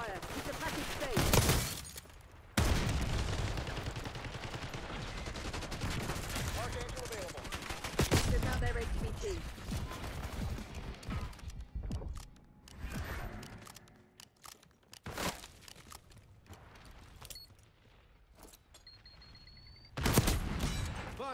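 Intense gunfire and bursts of automatic weapons fire in Call of Duty Black Ops 6, loud and sustained with sharp volleys and crashing impacts, mixed with game radio voice callouts.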